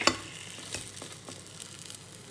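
Egg balls fry in hot oil and are turned in the pan, making a close, continuous crackling sizzle broken by soft scraping stir sounds and a sharp knock at the start. No one speaks.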